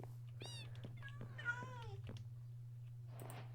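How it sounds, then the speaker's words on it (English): Several Minecraft cats give a few short meows in quick succession, faint and close, with a steady low hum underneath and a soft breathy noise near the end. "Now I have 3 identical cats"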